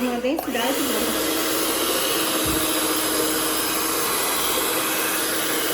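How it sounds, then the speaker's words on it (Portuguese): A kitchen mixer beats chocolate cake batter after cocoa powder is added, a loud steady whirring drone that runs continuously at close range after a brief startup wobble. "agora eu vou colocar o chocolate em pó e vou bater mais um pouquinho até dar uma densidade boa"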